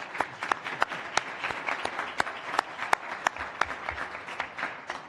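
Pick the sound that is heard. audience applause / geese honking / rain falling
audience applause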